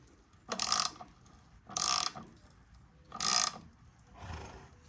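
Hand tap cutting thread for an insert into the spark plug hole of a Stihl MS 660 chainsaw, heard as three close, even ratcheting rasps with pauses between and a softer fourth stroke.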